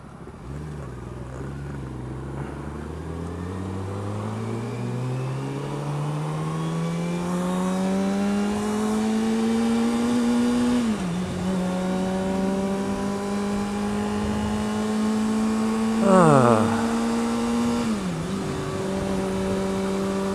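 A 2014 Honda CBR 600 sport motorcycle on a short ride, its engine droning steadily and rising in pitch through the gears, with brief dips at shifts and a sustained, close, continuous tone throughout.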